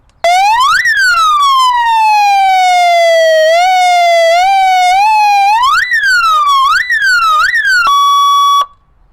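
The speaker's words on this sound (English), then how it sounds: "You got your siren." A police-style siren fitted to a Lexus GX460 wails loud and close, sweeping up and down in pitch, then several quick yelps and a short steady electronic tone before cutting off.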